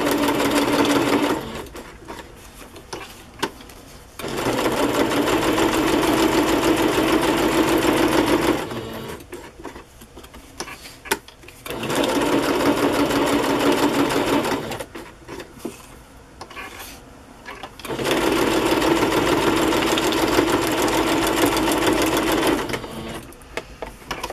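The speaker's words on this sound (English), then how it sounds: "I'll just do a straight stitch on this one." A sewing machine runs a straight stitch on journal tags in three long bursts of steady mechanical whirring. Quiet pauses with fabric handling and small clicks separate the bursts.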